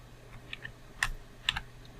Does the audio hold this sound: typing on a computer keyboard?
yes